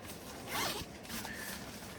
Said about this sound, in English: Go ahead and unzip this thing.